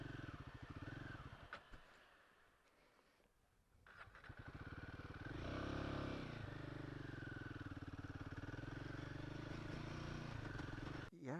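Royal Enfield Himalayan 450 adventure motorcycle ridden off-road, its engine droning and rising in revs close by with some clatter, and a rider's voice heard over it.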